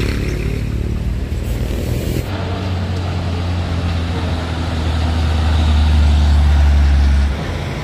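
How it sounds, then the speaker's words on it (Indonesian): A Hino tanker truck carrying Pertamina fuel drives past on a road, its deep engine rumble building steadily and peaking loud and close before easing off, with traffic noise around. "Truk tangki Hino."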